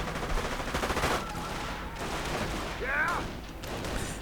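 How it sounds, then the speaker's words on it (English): Artillery fire and mine explosions in a WWII strategy game match, heard as rapid crackling gunfire bursts and distant booms, with a commentator talking over the battle. "Artillery opening up as well."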